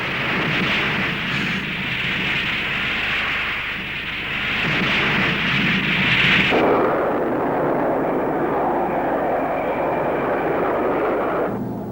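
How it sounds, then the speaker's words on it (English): A McDonnell Douglas F/A-18 Hornet combat jet roars past, a loud broadband rumble and hiss that swells and shifts midway, continuing as a sustained jet engine noise with no voices. "Navy and Marine Corps fixed-wing combat aircraft is the McDonnell Douglas FA-18"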